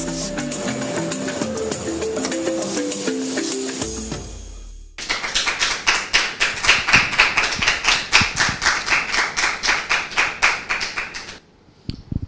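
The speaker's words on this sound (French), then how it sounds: "C'est avec ces applaudissements que nous voulons vous dire à toutes et à tous la bienvenue." Rhythmic hand clapping welcoming a TV show audience, starting after a stretch of music and continuing as steady, evenly spaced claps, fairly close and loud before stopping abruptly near the end.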